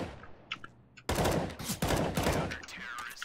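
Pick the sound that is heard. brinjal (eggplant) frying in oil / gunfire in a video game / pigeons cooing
gunfire in a video game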